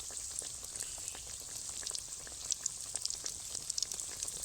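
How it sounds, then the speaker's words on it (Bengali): Cauliflower chops fry gently in oil over low heat, a soft, even crackle with scattered quick pops, quiet and close, with no talking. "হালকা আঁচে এগুলো ভাজা হোক"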